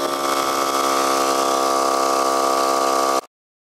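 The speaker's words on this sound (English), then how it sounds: "I got the compressor hooked up, and I'm going to do a time lapse on it." A Viair 88P 12V portable air compressor runs steadily with a loud, constant motor drone and whine, then cuts off abruptly near the end.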